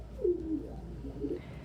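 Pigeons in a loft give soft, low coos, two or three rolling calls close by in a quiet space.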